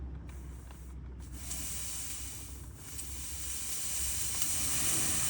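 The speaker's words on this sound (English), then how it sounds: "steaming, but not vacuuming." A faulty Bollit spot cleaner gives off a steady steam hiss, a continuous airy spray that grows slightly stronger over several seconds, with no speech.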